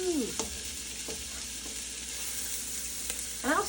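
Onions frying in butter and olive oil for a marinara sauce, a steady close sizzle with a few clinks and scrapes of stirring.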